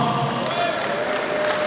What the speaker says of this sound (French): je demande aussi d'applaudir pour ma maman, Madame Doko Elise, qui est là